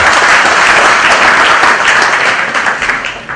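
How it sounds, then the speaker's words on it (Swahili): Loud, sustained applause from a church congregation in Thika, Kenya, clapping for the chairman, a dense wash of many hands that tapers off toward the end. "Tumpigie chairman makofi mazuri."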